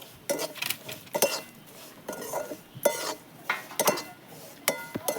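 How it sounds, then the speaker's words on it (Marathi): Vermicelli roasting in a pan with fried raisins for kheer, stirred with a spoon in repeated scraping strokes and metallic clinks against the pan over a faint background, no talking. "शेवया चांगल्या लाल भाजून घेऊया।"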